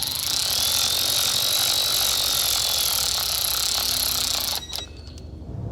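Ratchet tightening transmission solenoid bolts on a 1986 Chevrolet Monte Carlo SS, a loud rapid continuous clicking close up for several seconds, then stopping with a few final clicks and clanks.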